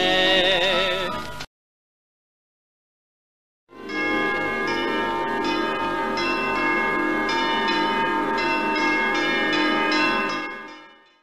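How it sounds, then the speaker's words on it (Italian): Church bells ring out over the town of Cittanova on a Sunday morning, a brief peal that stops, falls silent for a couple of seconds, then returns as a loud, sustained run of overlapping clanging strikes before fading. "si sveglia la città con le campane"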